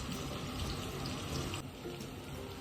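Water runs and splashes steadily as basmati rice is rinsed in a kitchen. The flow is continuous, close and moderately loud, and it eases slightly partway through. No one speaks.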